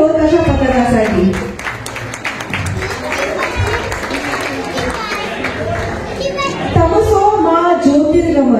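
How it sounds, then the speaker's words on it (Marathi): Audience applause and cheering for the Swamini dhol-tasha troupe at a public event, a steady wash of clapping mixed with crowd chatter and children's voices throughout. "जोरदार टाळ्या झाल्या पाहिजे स्वामिनी ढोल-ताशा पथकासाठी."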